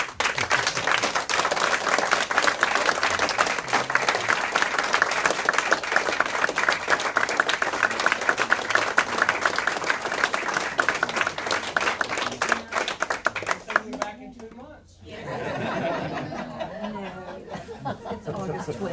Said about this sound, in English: So a big round of applause for the Usrys.